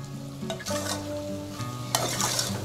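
Green onion and potato sabzi stirred and fried on high heat: a steady, loud sizzle runs throughout, broken by scraping stirs of the spoon in the pan, with no talking.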